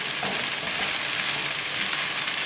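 Sliced okra (bhindi) fries in a pan for masala bhindi, a dense, even, close-up crackling sizzle that holds steady throughout without any talking.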